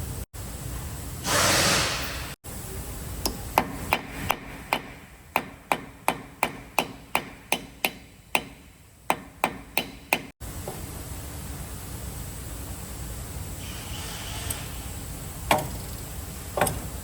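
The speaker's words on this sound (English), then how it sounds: "I will go ahead and smack it with the hammer" A series of about fifteen sharp metallic hammer blows on a socket over a rusted nut on a Silverado spindle, struck in a steady rhythm, loud and close, with workshop noise before and after.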